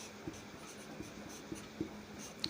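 A pen writing a notice by hand on paper, soft close scratching with faint light taps spaced roughly every half second over a quiet background, no speech.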